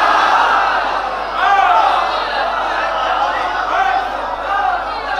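A large majlis crowd chants slogans in unison, a dense, loud wall of voices with rising and falling swells throughout.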